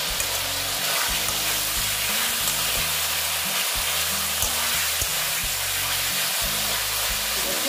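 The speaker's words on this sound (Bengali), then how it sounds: "প্রায় ভাজা ভাজা হচ্ছে, প্রায় অনেকটাই হয়েছে।" Pieces of chicken fry and sizzle in a partly covered pan in a home kitchen, giving a steady crackling hiss throughout over a low, blocky background hum.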